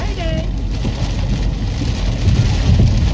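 Heavy rain pouring down outside at a new home construction site, a dense, steady broadband wash that stays close and loud throughout with no break.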